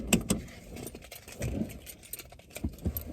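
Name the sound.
car keys jangling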